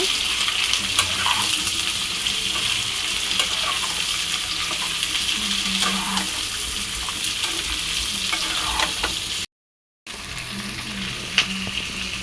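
Ginger, garlic and onion frying in a pan for paneer butter masala, a steady close sizzle with faint stirring and brief clinks, broken by a short silent gap near the end.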